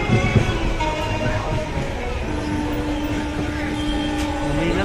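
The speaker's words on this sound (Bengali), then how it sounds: "এখন আমাদের হাওড়া স্টেশন থেকে চাললো ট্রেন কান্ডার এক্সপ্রেস" Kandari Express train pulling out of Howrah station, heard from inside as a constant loud rumble with wheel noise and faint rail squeal.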